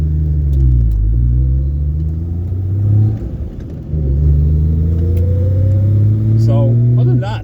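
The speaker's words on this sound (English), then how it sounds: "I can hear the carbs sucking." A 1972 Triumph TR6 on a road test after an engine rebuild, its carburetors sucking air as the engine revs up and settles in smooth rising pitch sweeps, loud and close with a brief dip midway.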